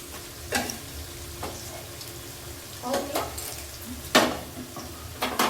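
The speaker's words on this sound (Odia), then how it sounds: "ଆଉ ପିଆଜ ଭଜା ହଉଛି" Onions frying in a pan for a Rohu fish curry in a home kitchen: a steady low sizzle with several sharp stirring scrapes and clatters at intervals, close and moderately loud, with no talk.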